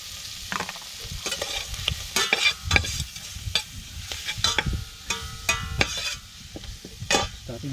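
Freshly picked periwinkles and cockles sizzle and fry in butter in a pan on a beach, with repeated stirring scrapes and clinks over a continuous close crackle.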